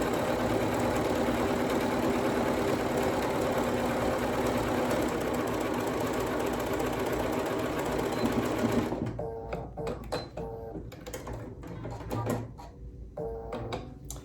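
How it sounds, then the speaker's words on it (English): A sewing machine stitching quilt block pieces together runs in a steady, loud mechanical whir for about nine seconds, then stops, leaving a few short bursts of stitching and soft handling noises, close up. "let's go ahead and sew this. Sew this together."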